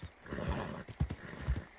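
A horse in Red Dead Redemption 2 Online snorts and whinnies loudly and harshly, with a few heavy hoof thumps underneath.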